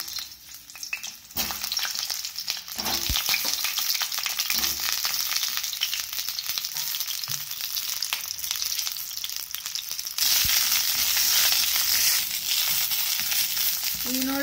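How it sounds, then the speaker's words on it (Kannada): Brinjal (eggplant) pieces frying in oil in a pan, a steady loud hiss and crackle that runs the whole time, with occasional stirring knocks and a sharper burst of sizzling partway through. "ಈಗ ನೋಡ್ರಿ ಬದನೆಕಾಯಿ ಹಿಂಗೆ ಹುರಿಬೇಕು ಇದು."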